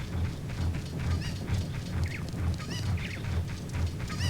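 Chicken clucking in Kakariko Village in The Legend of Zelda: Ocarina of Time, a few short squawky calls over a looping low rhythmic background, moderately quiet.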